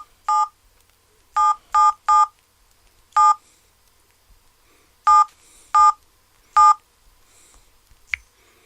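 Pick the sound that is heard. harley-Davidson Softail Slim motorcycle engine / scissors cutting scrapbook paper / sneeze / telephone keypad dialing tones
telephone keypad dialing tones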